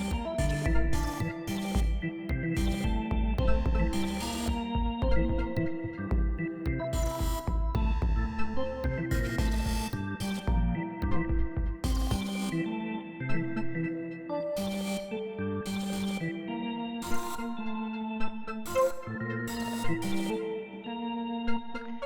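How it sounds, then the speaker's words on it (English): Arturia OB-Xa, a software clone of the Oberheim synthesizer, playing a busy sequence of chords and punchy synth notes with a steady rhythmic pulse, loud and close with no talking. "channel four is the OBXA, basically the Oberheim clone from Alturia"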